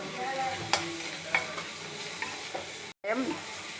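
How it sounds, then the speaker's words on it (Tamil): Onion, tomato and chilies dry-sauteed in a pan with no oil, giving a steady soft sizzle with a few sharp spoon scrapes and stirs, close and continuous with a brief break near the end. "எண்ணெய் விடாமல் லேசாக வதக்கி எடுத்துருவோம்"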